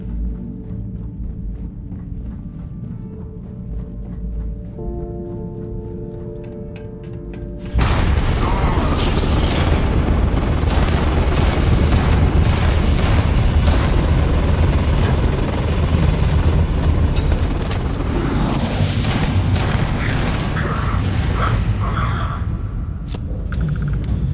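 A weapon in Starfield fires a long burst of bullets, a dense, loud rattling roar that cuts in abruptly after a quieter stretch of music and hum and then continues nearly unbroken.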